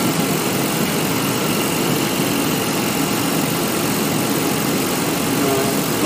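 A 1992 GMC 5.7 engine, misfiring when cold, runs at a steady idle under ignition testing, giving a continuous, dense, rumbling drone with no change in pace.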